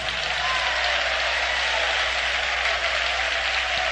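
Church congregation clapping at a Pentecostal service, a dense, loud and steady wash of applause filling the whole stretch, with a constant low hum beneath it.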